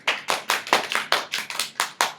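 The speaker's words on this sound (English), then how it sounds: "give yourself a round of applause" A class of students claps for themselves in a classroom, a short run of about nine sharp, evenly spaced bursts of clapping, close and fairly loud, with no voices.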